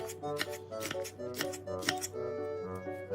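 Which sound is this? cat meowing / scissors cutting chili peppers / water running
scissors cutting chili peppers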